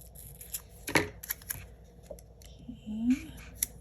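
Scissors snip through a paper planner sticker, trimming away its white border: a few short crisp cuts with light paper rustling, close and fairly quiet, with a soft voice briefly heard.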